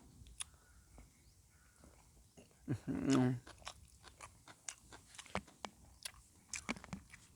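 Papaya salad with boiled egg eaten by hand outdoors, with soft close crunching and chewing bursts, a louder cluster of bites midway, and faint scattered clicks around.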